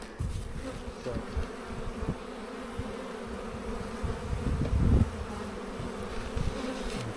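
Honeybees from nucleus colonies being unpacked at the start of the season hum in a steady, dense buzz that fills the whole clip, swelling briefly louder near the end, with no voices.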